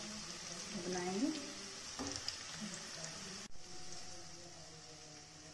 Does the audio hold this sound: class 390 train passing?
no